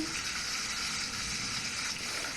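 Banana fritters frying in hot oil give off a steady, even sizzle and hiss that holds close and constant without any voice over it.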